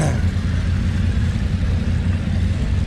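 A Moto Guzzi motorcycle engine runs loud and close at a motorcycle festival, a deep throbbing idle with a slight rev, steady throughout with crowd noise beneath.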